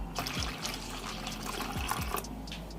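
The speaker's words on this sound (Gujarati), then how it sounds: "હવે આમાં આપણે પાણી એડ કરી દઈશું।" Water trickles and splashes as it is poured into a pan of thick Surti locho batter, a short, close, soft pour with small gurgles over a steady low hum.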